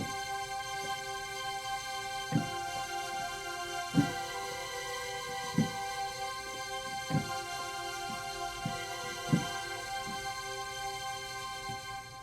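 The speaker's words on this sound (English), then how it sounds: "this is that big, fizzy, powerful synth" Big, fizzy Epic Synth pad patch on a keyboard, its sustained bright chords holding steady and loud throughout, with soft rhythmic clicks and swells marking chord changes every couple of seconds.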